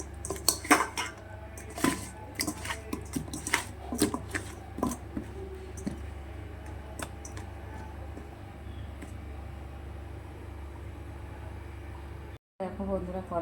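A kadai and utensils clink and clatter close by while hot oil is readied for frying bhola fish. Busy metallic knocks come in bursts at first, then give way to a quieter kitchen background with some talk.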